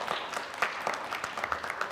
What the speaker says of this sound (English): Let's give Drew a round of applause.